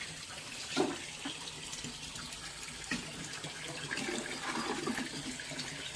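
Water flows into a fish tank during cleaning, producing a steady, close rush of running and splashing water with a few louder splashes and no talking.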